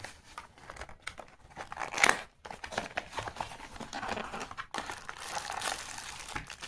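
Packaging of a budget Nokia button phone being unwrapped by hand, with close crinkling and crumpling of plastic and paper in uneven bursts, plus a sharper tearing rustle near the middle.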